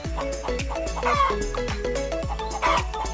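A hen clucks repeatedly at close range beside a nest in short, throaty bursts, with a faint background hum throughout.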